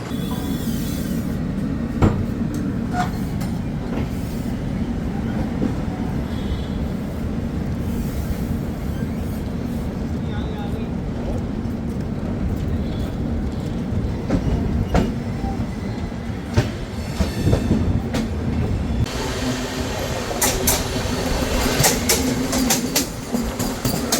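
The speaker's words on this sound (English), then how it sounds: "then we will see the departure from Hazrat Nizamuddin" The 12722 Dakshin Express pulls out of Hazrat Nizamuddin, heard from on board as a steady low rumble with scattered clanks and knocks, wheel clatter building toward the end.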